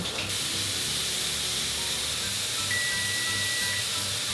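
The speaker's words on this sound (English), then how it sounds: "We have a steady stream of steam coming out." Steam vents in a steady, even hiss from a pressure canner holding beef chili, constant and fairly close, with a faint tonal whistle partway through.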